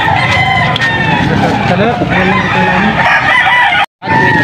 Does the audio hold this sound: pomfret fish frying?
no